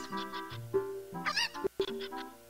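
Game-like chicken (cucco) calls squawk and honk repeatedly in The Legend of Zelda: Ocarina of Time over a steady musical background, loud and close, with no talking.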